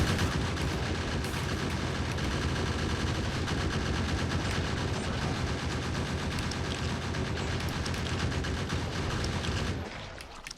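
Dense, continuous rapid gunfire from turrets in Factorio with the Krastorio2 mod, loud and unbroken for about ten seconds before cutting off abruptly at the end.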